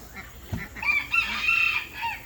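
Farm chickens crowing and clucking, a close, loud rooster-like crow rising over brief hen clucks in a short burst.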